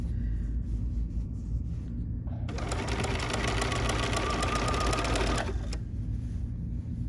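A sewing machine quilting a quilt top runs in one fast continuous whirring burst of rapid needle strokes lasting about three seconds, then stops, set against a low steady room rumble.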